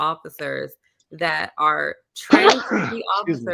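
One sudden sneeze bursts out in the middle of steady talk. It breaks into a man's speech partway through, close to the microphone.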